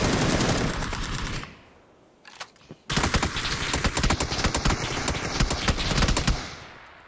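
Rapid automatic gunfire in a video game, loud and close, bursts for about a second and a half, pauses with a single short shot, then resumes in a long sustained rattle before trailing off.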